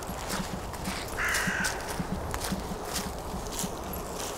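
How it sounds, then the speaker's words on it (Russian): A crow caws once or twice at mid distance over an outdoor 3D archery range, above a steady run of soft footfall-like thuds and faint background hiss. "Ворона прям не отстает, нифига."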